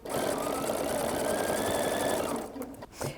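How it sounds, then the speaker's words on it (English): A sewing machine stitches down a quilt binding over the fold at a quarter-inch seam, buzzing steadily and close for over two seconds before stopping, followed by a few faint handling clicks. "I now can turn this and stitch down. We're still using a 1/4 inch, and you're going to stitch right over that fold."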